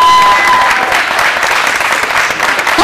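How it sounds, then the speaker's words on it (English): Warm audience applause for a nervous singer being brought on stage, a full burst of clapping and crowd noise that fills the room evenly before tapering slightly at the end. "Give her a warm applause."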